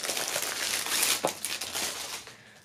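Plastic foil wrapping around a flag crinkles and rustles steadily for a few seconds as it is handled, close and fairly soft, with no one talking.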